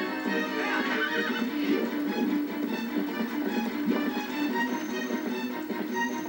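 A horse in Zelda: Twilight Princess whinnies and neighs continuously over clip-clopping hooves, loud and close throughout with no talking.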